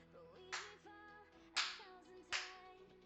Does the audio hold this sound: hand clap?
yes